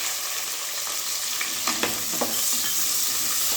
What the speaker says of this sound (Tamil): வெங்காயம் சேர்த்துக்கலாம் வெங்காயம் நல்லா ப்ரௌன் கலரில் வரணும்